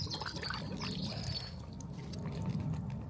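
Water poured into a blocked household drain, a steady splashing trickle with gurgling, loud and close throughout with no talk.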